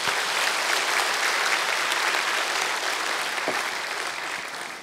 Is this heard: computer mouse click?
no